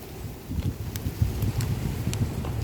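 Strong wind blowing outdoors, a low rumbling buffet of gusts battering the microphone, swelling and staying loud and close, with faint light clicks scattered on top.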